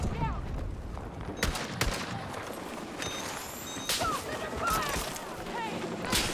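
Chaotic gunfire with sniper shots in a shooter game, dense crackling bursts and sharp cracks at varying distance that carry on throughout, with some voice mixed underneath.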